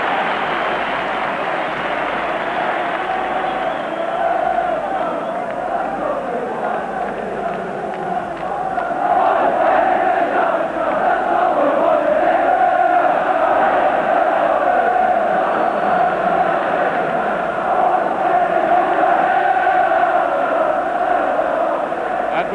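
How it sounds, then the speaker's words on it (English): Football crowd at a Rangers v St Mirren match in 1987, a loud continuous roar of cheering swelling midway and staying high, with a commentator talking over it. "The crowd rising to him though."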